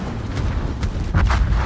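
Heavy booming naval gunfire blasts from the cruiser Collingwood in World of Warships, over a rumbling background, a few loud shots in quick succession, with no talking.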